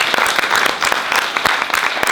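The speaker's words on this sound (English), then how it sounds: "can we all just please put our hands together for one final big round of applause for our students" An audience applauds students at a college awards ceremony, with dense, loud, steady clapping held throughout.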